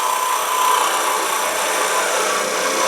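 A lathe tool parts off a wooden toothpick holder, giving a steady, close, loud scraping and cutting hiss that holds without pause and has no talk over it.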